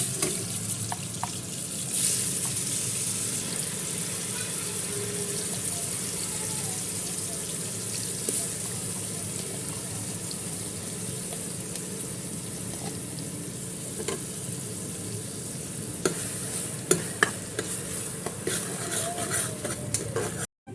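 Chopped onions fry in a couple of spoons of oil in a home kitchen pan for a chicken curry, a steady close sizzle running without a break and spoon scrapes now and then, a brief watery splash near the end.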